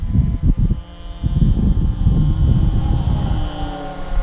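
A droning engine hum with a faint high whistling tone, steady and moderately loud, like a model plane passing at some distance.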